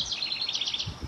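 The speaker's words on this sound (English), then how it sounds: "Those birds are very noisy today." Outdoor birds chirp in a quick, steady run of high, bright tweets, fairly close and alone over faint background.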